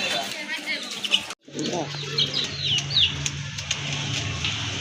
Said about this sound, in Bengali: একজোড়া রাজগোল্লা কবুতর